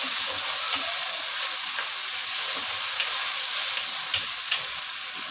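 Tomato paste from two tomatoes sizzles and fries steadily in a pan for daal palak, a continuous close crackle with faint stirring taps and no talk.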